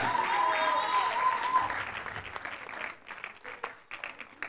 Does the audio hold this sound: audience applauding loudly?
yes